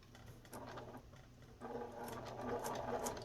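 A home sewing machine stitches a straight seam across a fabric face mask with an aluminum nose strip. The motor gives a faint, steady whir with small rhythmic ticks, growing slightly louder partway through.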